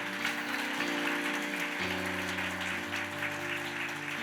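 Church congregation applauding steadily throughout, with sustained tonal music playing underneath the clapping.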